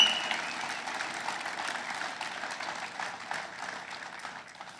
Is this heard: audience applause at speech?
yes